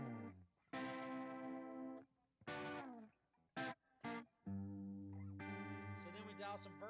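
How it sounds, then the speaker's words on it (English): Clean electric guitar notes and chords through a chorus effect pedal with a shimmering, wavering detuned sound, played in short phrases separated by brief pauses. "Beautiful chorus pedal"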